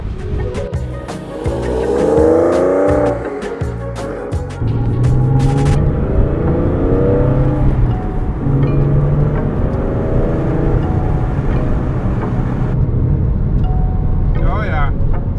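A Porsche 911 of the 996 generation drives along a road with a steady engine drone and a broad roar of tire noise from the cabin, rising as it accelerates; people talk over it.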